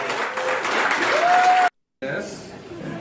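Brief burst of clapping from a small audience of kids at an Xbox One S unboxing, mixed with chatter and a rising whistle-like tone, cut by a short silence, then quieter murmuring.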